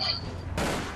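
A loud burst of gunfire in the APB game rings out close by, a sustained rattle that fills the second amid the noise of a driving vehicle.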